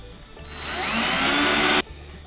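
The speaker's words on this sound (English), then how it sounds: "you just want to drill straight through" A power drill whirs steadily, rising in pitch as it bites through a vehicle's metal tailgate for about a second and a half, then cuts off abruptly.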